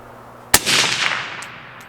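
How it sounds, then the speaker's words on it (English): A single sharp, loud shot from a 22 ARC rifle on a range cracks once, followed by a short, fading rumble of echo. "we're going to do just a series of like 5-shot groups"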